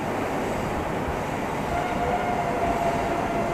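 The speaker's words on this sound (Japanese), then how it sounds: "4番線に電車が参ります" A Meitetsu express train pulls into a station platform, a loud steady rolling rumble with a faint thin wheel squeal rising toward the end, no voices over it.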